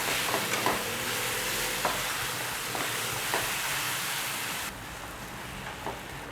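Shepu (dill) bhaji is stirred in a pan over a soft sizzle, with a utensil scraping and clicking against the pan several times at an uneven pace.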